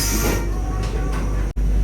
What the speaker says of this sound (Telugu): అంబాలా కంటోన్మెంట్ జంక్షన్ ట్రైన్ కంప్లీట్గా స్టాప్ అయినాకనే ఈ డోర్ ఓపెన్ అవుతుంది.